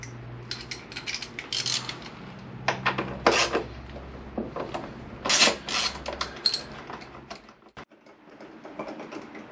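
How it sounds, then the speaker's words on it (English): Screws being worked out of a Honda VFR800 VTEC fairing side panel, with close, irregular metallic clicks, scrapes and small rattles in short bursts, no talking. "So what I need to do is get all of those screws out, and then the panel will come off."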